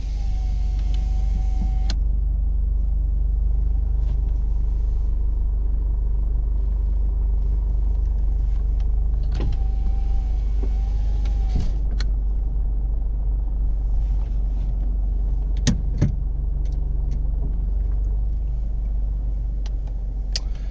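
Scion tC fitted with a Borla S-Type muffler, heard from inside the car while driving with the e-brake engaged: a steady low exhaust rumble and road drone throughout, with a few brief whines and clicks on top.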